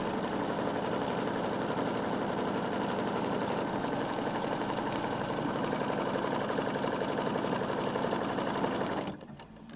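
An embroidery sewing machine stitches batting down, a fast, steady mechanical rattle at close range running continuously for about nine seconds before stopping abruptly.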